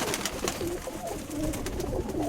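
Pigeons cooing in repeated soft, rounded calls over a steady noisy background, with several birds overlapping through the whole stretch; no voices.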